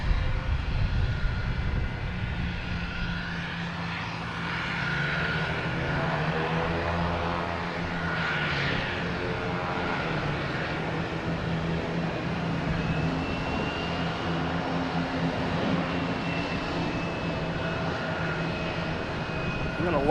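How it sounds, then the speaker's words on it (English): Delta Embraer 175 jet airliner taking off at Logan Airport, a sustained broad engine roar rising and holding steady for twenty seconds at moderate distance. "Delta taking off, heading to Washington, D.C. on Embraer"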